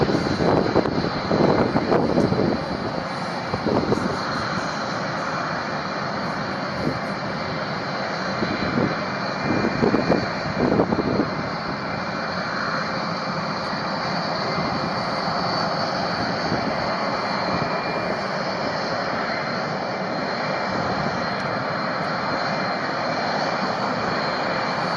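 A B-1B bomber flies overhead with a loud, continuous jet engine roar, steady and powerful throughout, with some wind buffeting the microphone early on.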